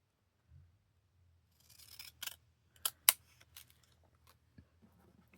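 Several crisp snips of scissors cutting, sparse and irregular, close and quiet against a silent background.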